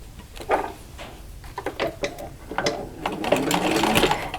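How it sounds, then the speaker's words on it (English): A sewing machine with a regular presser foot stitches a quarter-inch seam in fabric for a zippered coin purse, a close, loud mechanical run of needle strokes with clicks and handling knocks, no talk. "I've got my regular presser foot on, and I'm going to go ahead and stitch"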